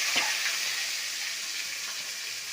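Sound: coriander and curry leaves frying in hot oil with mustard

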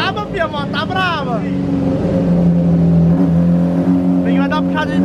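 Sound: Honda 600R motorcycle engine revving hard on a top-speed test

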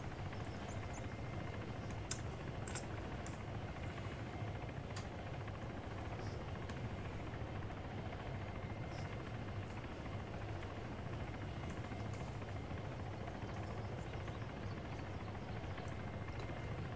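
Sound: helicopter flying in a video game

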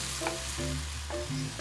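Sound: Japanese mushrooms sautéing in a frying pan

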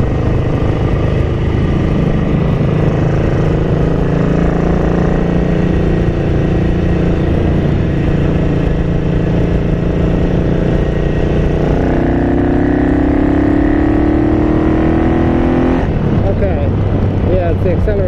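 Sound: Ducati 900SS bevel engine running lean, DellOrto PHM40 carburetor

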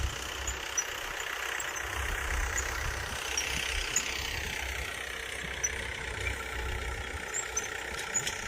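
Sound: tractor engine running in field

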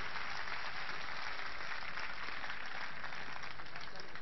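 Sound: audience applause at rally

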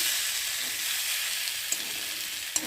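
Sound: taro frying in a pan

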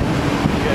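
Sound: wind at Keflavik Airport, Iceland

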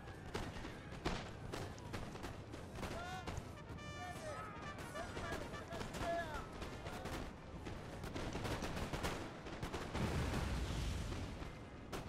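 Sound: musket gunfire from infantry in Napoleon Total War video game

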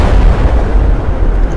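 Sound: tank cannon firing in a video game Russian mod

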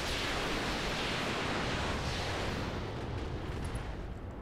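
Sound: mech weapons firing in the video game BattleTech RogueTech

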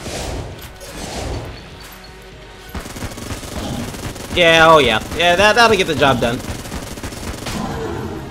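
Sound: Vulcan cannon firing in the video game Enter the Gungeon

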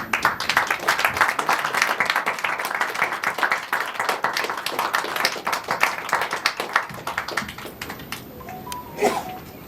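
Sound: applause

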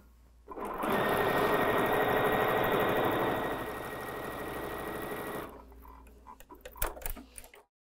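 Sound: sewing machine stitching quarter-inch seams

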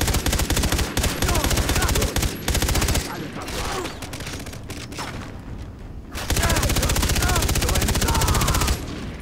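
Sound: gunfire in the video game Far Cry 3

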